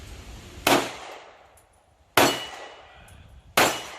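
Three loud, sharp gunshots from a Mossberg MC1 SC pistol, spaced about a second and a half apart, each a close concussive crack with a ringing decay.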